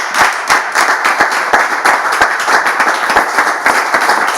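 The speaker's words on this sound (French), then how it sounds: "On peut bien applaudir, s'il vous plaît, à ces frères." Audience applause at a church gathering, steady dense clapping from many hands close by, filling the whole stretch without voices.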